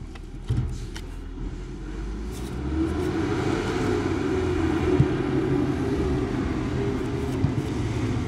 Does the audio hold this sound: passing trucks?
yes